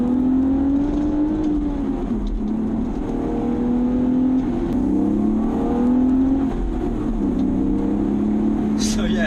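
A BMW Z4 engine revs steadily up and down through about 4,000 to 6,000 RPM, loud and close, with a continuous throaty drone throughout.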